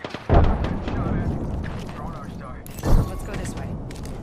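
In the video game Apex Legends, two grenade explosions sound as deep booms a couple of seconds apart. They sit over a steady bed of game noise, with voices faintly present.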